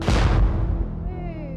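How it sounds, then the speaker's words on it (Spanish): A sudden loud blast goes off in a bakery during a hidden-camera prank. It is staged as a refrigerator motor burning out, and the heavy burst rolls into a fading, rumbling decay. "Primera explosión en la panadería."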